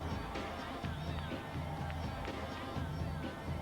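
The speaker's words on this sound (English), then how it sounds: "Big cheer for Malta tonight" A Miss World 1999 pageant audience cheers for Miss Malta, a dense, steady crowd roar and applause filling the hall.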